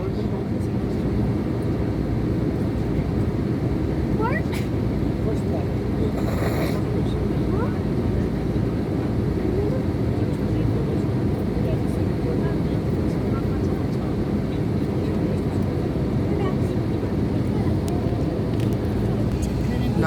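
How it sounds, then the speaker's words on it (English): An airliner on a Kathmandu to Bangalore flight, its jet engines spooled at medium-to-low thrust, heard as a constant, loud broadband roar inside the cabin that continues without letup. "now they have put the engines into spool to keep the thrust in the medium to low level"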